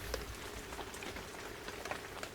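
Steady rain falls on an outdoor surface, a constant hiss scattered with soft, irregular drop taps, moderately close and with no voices.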